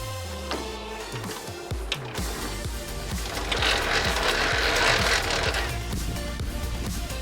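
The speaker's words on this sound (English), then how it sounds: "Here is the lever to change the height." Height-adjustment lever on a Metabo DH330 thickness planer being worked: a close, continuous mechanical ratcheting and clicking of gears, with a rougher grinding rattle swelling midway, no voices.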